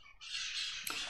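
Macaws squawk in one harsh, continuous raspy call that lasts about a second, fairly close and clear, with a brief rougher burst near the end and no talking.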